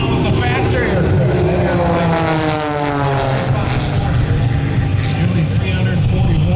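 Extra two-seat aerobatic propeller airplane performing at an airshow, a loud steady engine and propeller drone with shifting pitch as it manoeuvres, running continuously with a voice faintly under it.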